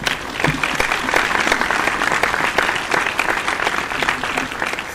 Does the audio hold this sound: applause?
yes